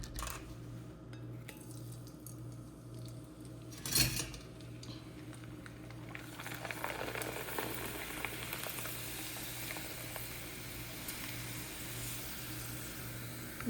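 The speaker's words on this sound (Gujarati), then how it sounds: "નવો પાપડ તળી દઈએ બધા" Papad frying in hot oil, a steady bubbling sizzle running throughout with a sharp clink of a utensil partway in and the frying growing slightly busier toward the end; nobody speaks.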